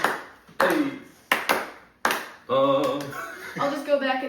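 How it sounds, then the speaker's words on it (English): Several sharp hand claps ring out for syncing, three spaced slaps within two seconds, followed by people talking and singing. "I'll just go back and sync all the way to those claps"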